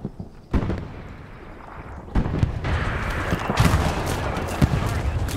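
A tank firing in the Hell Let Loose video game, with heavy booming blasts and rumbling explosions amid dense battlefield noise, loud and close, with a voice speaking over it.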